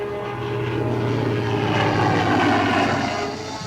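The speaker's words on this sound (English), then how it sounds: "planes of the Fleet Air Arm and Coastal Command patrol the skies and search the seas" WWII Fleet Air Arm propeller planes flying overhead give a steady, loud, droning engine roar that swells slightly and holds throughout, with no voices.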